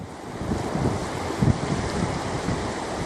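Ocean waves washing onto a beach near the Farne Islands, with gusty wind buffeting close by; a steady rushing wash with a brief louder surge midway, no voices.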